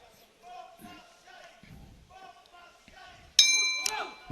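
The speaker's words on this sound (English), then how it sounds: "there goes the bell" At an amateur boxing world championship bout, the ring bell clangs loudly to end the round, cutting in sharply after crowd noise and a commentator talking, its ringing tone sustaining to the end.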